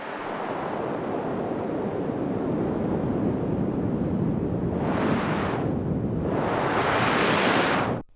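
Broad hissing noise from a Yamaha CS-80 synthesizer's noise generator, held steadily, with its brightness sweeping open, closing, then opening again before cutting off abruptly.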